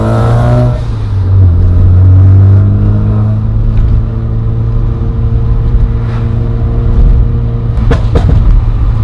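A 1991 Mazda RX-7 Turbo II rotary engine roars loudly up close, its pitch dropping after an opening rev and then holding a steady, throaty idle, with a few sharp pops near the end.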